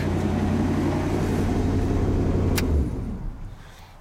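A Chevy C30 squarebody truck engine runs with a badly rotted dual exhaust, a loud low rumbling drone that holds steady, then fades out near the end, with no talk.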